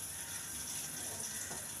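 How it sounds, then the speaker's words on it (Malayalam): A gas stove lighter clicks in a home kitchen while lunch is being cooked, with faint mechanical ticks set in a steady background hiss and no talk. "ഗ്യാസിൻ്റെ ലൈറ്റർ"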